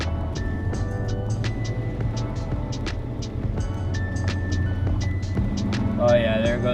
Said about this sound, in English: You just hear that motor guzzling